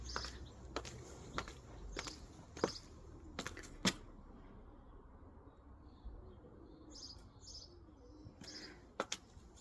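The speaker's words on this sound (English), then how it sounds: "You can hear the birds in the background as well" Birds in a garden, with faint scattered chirps and calls over a quiet outdoor background, interrupted by sharp clicks and light footsteps nearby.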